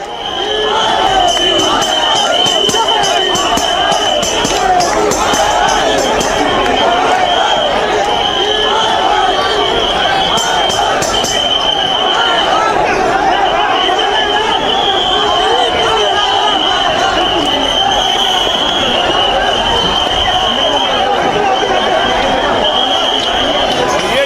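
Large protest crowd gathered at Jantar Mantar, a dense continuous roar of many voices, shouting and chatter, loud and sustained with a constant high-pitched tone running through it.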